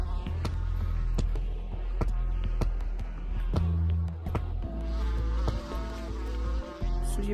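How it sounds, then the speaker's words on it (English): Steady insect-like buzzing of chasing bees in the video game Gorilla Tag runs throughout, mixed with game music and occasional sharp effect sounds. "You're being chased by bees."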